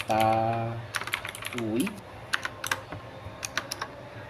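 Light, quick keystrokes clatter on a computer keyboard during spreadsheet data cleaning, a brief voice first and then irregular taps, faint and close.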